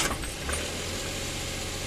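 Suzuki DA64W with a K6A engine running, a steady low idle hum continuing evenly with a brief brighter rattle near the start, no voices.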